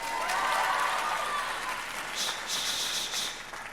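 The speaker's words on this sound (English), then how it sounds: "Now you clap." Studio audience applause at an MTV Unplugged taping with Twenty One Pilots: a steady, dense wash of many hands clapping that thins slightly toward the end.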